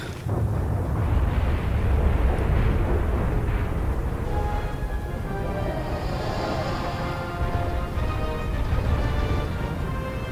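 Ship cannons fire and explosions roar in the Pirates: The Legend of Black Kat video game, a loud, dense, continuous rumble of booms that fills the whole stretch, with faint voices mixed in.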